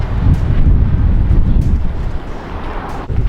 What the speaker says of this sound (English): A little bit of wind there, look.